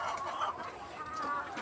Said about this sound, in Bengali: আমি আছি বর্তমানে ফ্রান্স মুরগি ফার্মে আছি।